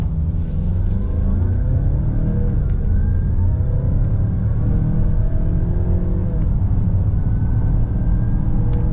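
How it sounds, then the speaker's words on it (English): A 2023 Mazda CX-9 Carbon Edition turbo SUV with a 6-speed automatic accelerates hard from a brake rev toward 60 mph, its engine rumbling and climbing steadily through the gears, loud and continuous from start to finish. "We're gonna brake rev the 6-speed, see what it can do."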